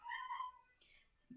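A house cat lets out one short, high meow up close, followed by a soft shuffle and a low murmur of a voice.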